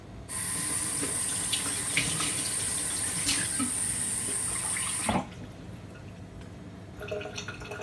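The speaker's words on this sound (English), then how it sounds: "Half a cup of warm water." Kitchen tap running warm water into a bowl, a steady close hiss and splash for about five seconds before it is shut off, leaving quiet room tone.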